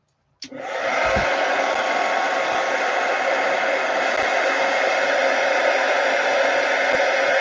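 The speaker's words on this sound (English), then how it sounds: "Heat gun." A heat gun blows hot air onto paint during an art session, switching on with a click and then holding a steady, loud, rushing whoosh, heard close and alone.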